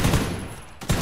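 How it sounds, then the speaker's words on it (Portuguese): Gunfire in the battle royale video game Knives Out: a short burst of shots, followed by another sharp report a moment later, close and fairly loud. "Dei um tiro."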